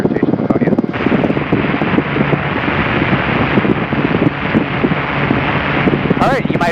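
Helicopter in flight on final approach for a practice autorotation, a loud constant rotor and engine roar heard from the cabin with wind rush, radio chatter and voices talking over it.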